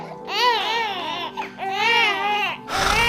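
Babies wail in loud, rising and falling bursts, two long cries with a short breath between, then a fresh outburst at the end, close by and with no talking over them.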